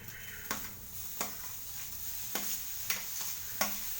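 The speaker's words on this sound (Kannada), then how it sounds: "ನೋಡಿ ಇವಾಗ ಕಾಳು ಹಾಕ್ತೀನಿ" Legumes are tipped into a sizzling pan with grated coconut frying on low flame, a soft continuous hiss punctuated by a few sharp clinks and scrapes of a spoon, close by.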